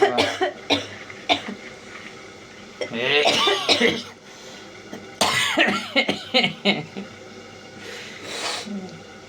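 Repeated harsh coughing fits, close and loud, broken by short pauses, with a person speaking between them.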